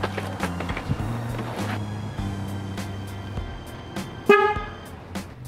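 A replacement horn fitted to a Jeep gives one clear, loud honk near the end, heard over a low background hum and scattered knocks.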